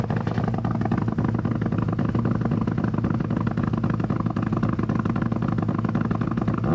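A rally car engine at the 2024 Rally of Canberra roars loud and steady as the car launches off the start line, a dense continuous drone with no break.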